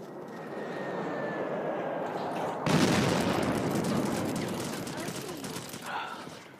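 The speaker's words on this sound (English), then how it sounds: "set off this airstrike" In Modern Combat 5, an airstrike comes in as a jet sweeps overhead, then a sudden loud burst of gunfire and explosions breaks out and rumbles on. Bright, busy clatter continues to the end.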